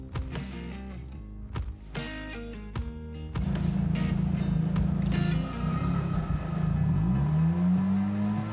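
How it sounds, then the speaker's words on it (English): A car engine breathing through a handmade Quadra V-Tech replica muffler blips in a few short revs, then holds a loud sustained growl that climbs in pitch near the end, close and without talk. "We can install the muffler in its place and listen to the final sound."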